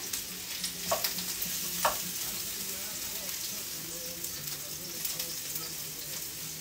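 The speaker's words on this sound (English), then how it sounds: "I'm adding this is a half an onion, and I'm just going to saute that for about 5 minutes in a little oil" Half an onion sautés in a little oil, giving a continuous close sizzle with a couple of brief stirring scrapes and a faint murmur in the background.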